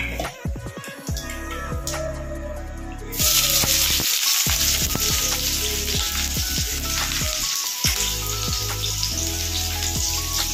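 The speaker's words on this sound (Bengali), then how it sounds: "তো পেঁয়াজটা ভেজে নিই, তারপরে আবার দেখাচ্ছি।" Onions frying in oil in a wok after cumin seeds were tempered, a loud steady sizzle with intermittent stirring scrapes and clanks throughout, no talking.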